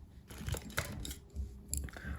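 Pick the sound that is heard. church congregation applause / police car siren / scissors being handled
scissors being handled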